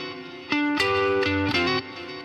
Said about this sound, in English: then we're going to play a little chord hit of the D dominant 7th chord that's on the D,